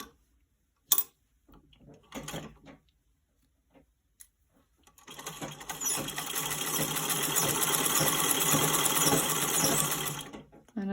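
Home sewing machine stitching a pillow square, a few clicks and handling noises first, then a steady close whirring run of stitches for several seconds before stopping.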